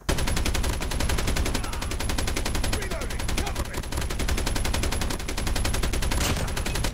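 Rapid automatic gunfire in Call of Duty Mobile, a steady unbroken stream of shots lasting the whole stretch, loud and close, with faint voices in the background.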